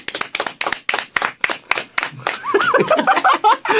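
Several hands clap in quick bursts, sharp and close, and then voices chatter and laugh over the tail end.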